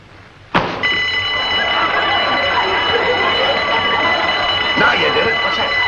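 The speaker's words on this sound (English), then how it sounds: "That was a burglar alarm." A burglar alarm in a classic TV comedy scene bursts on abruptly and rings loud and continuous, holding a steady piercing tone to the end.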